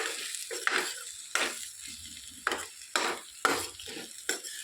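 A broad bean and green chili fry is stirred in a pan, with repeated scraping strokes of a spoon against the metal over a soft sizzle, close and fairly quiet.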